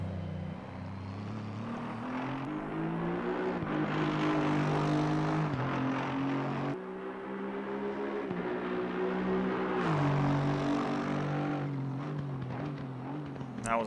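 Aston Martin V8 GT3 racing around Spa in Assetto Corsa Competizione, its engine droning steadily and loudly with rising and falling pitch through gear changes, no talking.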